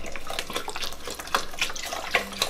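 Organic vegetable broth pours from a container into a pot of vegetarian Guinness Irish stew, a steady close splashing, gurgling liquid stream running continuously for a couple of seconds with no talking.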